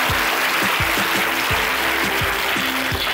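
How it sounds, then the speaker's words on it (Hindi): Students at an inter college clap for a classmate who asked a good question, a dense rapid patter of many hands with low thumps underneath, steady and fairly loud throughout. "अनुसारती के लिए तालियां बजाओ।"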